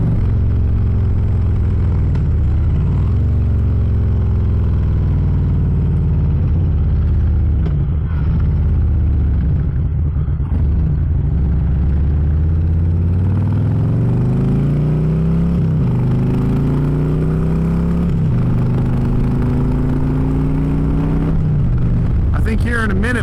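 Harley-Davidson Electra Glide motorcycle cruising on the road at low RPM, a steady deep engine rumble with gentle rises and falls in pitch and wind noise, loud and close throughout.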